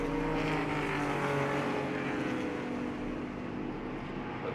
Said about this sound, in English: Antonio Carmona starting that RS2000 spec Escort Mark II.